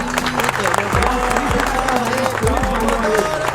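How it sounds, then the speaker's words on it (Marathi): Audience applause at a public gathering, steady dense clapping that runs through the whole stretch, mixed with a voice and tonal sounds over a low hum. "जोरदार टाळ्या वाजवा"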